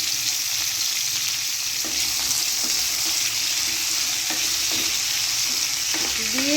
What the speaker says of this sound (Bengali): দিয়ে আগে আলুটাকে একটু ভাজা ভাজা করে নেব।